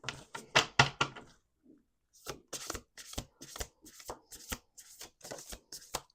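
A deck of oracle cards being riffled and shuffled by hand, with a dense clattering run of rapid card flicks, a brief pause, then further bursts of shuffling at close range in a quiet room.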